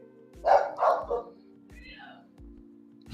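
A dog barks a few times nearby, loud bursts over a steady low electrical hum in a quiet room, with a short whine trailing after.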